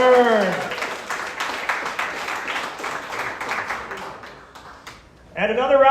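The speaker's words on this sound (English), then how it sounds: "All right, round of applause for Anthony and Blue Saturn." An audience at a Chicago AI startup pitch showcase applauds a presenting company, with dense steady clapping for several seconds that tapers off before a voice resumes speaking.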